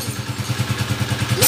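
Motorcycle engine idling after carburetor adjustment, running with a steady, even low thumping pulse, close and loud, with no talking.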